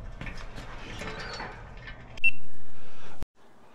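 Four bolts being tightened on a 2023 Biktrix Juggernaut Ultra FS Pro 3 e-bike, close ratcheting clicks and mechanical rattles, then a loud steady whir of a power driver that cuts off abruptly.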